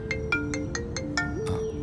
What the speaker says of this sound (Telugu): వదిన ఫోన్ చేస్తుంది.